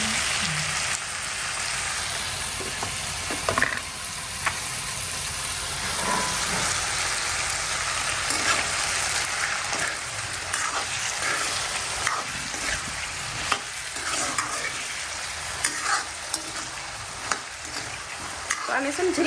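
Potatoes frying in a tempering pan give a continuous close sizzle with crackling spatter and occasional scraping stirs, steady throughout, no voices.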